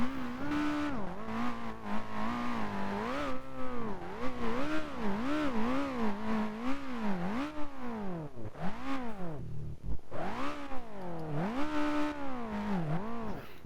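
A Mitsubishi Evo in BeamNG.Drive strains its engine through desert terrain as its front skid plate digs in. The engine drones loud and close with rising and falling revs throughout, and a few sharp dips and surges come near the end.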